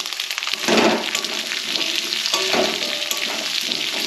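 Whole garam masala, chopped ginger, garlic, onion and capsicum fry in hot oil, a loud close sizzle that flares as ingredients hit the pan, then settles into steady crackling with spatula stirring and no voices.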